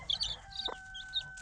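Several hens clucking in short soft bursts in a backyard flock with young chicks, with a steady high tonal hum running underneath.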